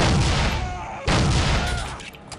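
Hand cannon gunfire in the shooter game Soldier of Fortune: two loud, booming shots about a second apart, each followed by a decaying rumble.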